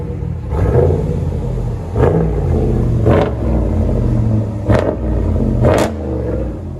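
A 2015 RAM 1500 with a 5.7L HEMI V8 and Dynomax Race Bullet dual exhaust revs hard in five loud, close bursts, each climbing sharply and dropping back to a deep, rumbling idle between pulls.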